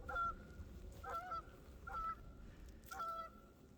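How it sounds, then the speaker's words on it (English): Geese honk in four separate bursts spaced about a second apart, over a low, steady rumble of background noise. "Listen to those geese."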